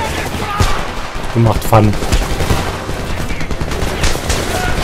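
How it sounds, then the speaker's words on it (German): Pistol gunfire in the shooter game Homefront: several sharp, loud shots fire in quick succession over battle noise while someone talks. "Die Pistole fetzt. Die Pistole macht Spaß."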